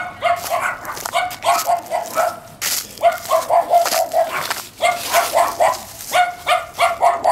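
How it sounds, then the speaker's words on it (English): Several dogs barking loudly and repeatedly at close range in a downtown residential area, in rapid overlapping volleys that continue steadily without pause. "Loud, annoying dogs."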